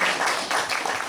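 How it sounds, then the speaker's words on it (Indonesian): An audience applauds at the opening ceremony of a regional working meeting, a dense wash of clapping that is fairly faint and lasts about a second. "Tepuk tangan untuk Pak Rofi."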